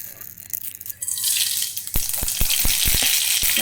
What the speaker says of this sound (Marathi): सासाम पटपटयता आसता